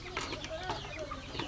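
Chickens in a poultry farm keep up a steady, busy clucking and chatter throughout, moderately loud with several birds overlapping and no speech.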